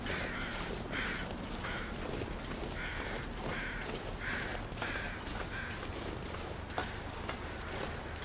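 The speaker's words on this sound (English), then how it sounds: "I hear crows, so that's probably not a good sign." Crows caw repeatedly in a snowy wilderness survival game, a series of harsh, evenly spaced calls at moderate distance over a constant windy background hiss.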